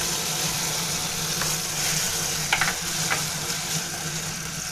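Tofu frying in hot oil in a pan, giving a steady close sizzle throughout with a few brief crackles and pops near the end; no one talks.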